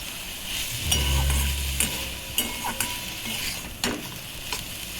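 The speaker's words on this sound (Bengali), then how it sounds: "সেই বড়িটা আর বাদামগুলো দিয়ে ভালো করে নাড়াচাড়া করে নেব।" Fried amaranth greens are stirred in a pan with fried lentil dumplings and peanuts, a continuous close sizzle broken by repeated scraping clacks of a spatula against the pan.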